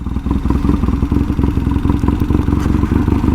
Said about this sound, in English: Love the sound of that exhaust pipe